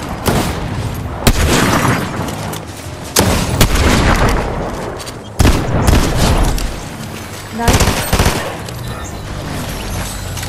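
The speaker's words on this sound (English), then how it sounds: "More gunfire." Loud Fortnite battle sounds: repeated sharp gunshot bursts and heavy booming explosions hit every couple of seconds, separated by quieter stretches, with players' voices faintly underneath.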